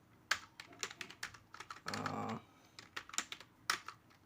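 Quick, uneven clicks of a computer keyboard as an SQL insert query is typed, with a brief burst of denser rapid keystrokes midway; close, clear and without talk.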